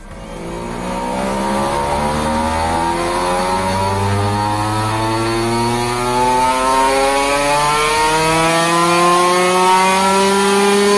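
A two-stroke motorcycle engine runs on a dyno during an ignition coil test, revving loud and continuous with its pitch climbing steadily as it winds up. No voices.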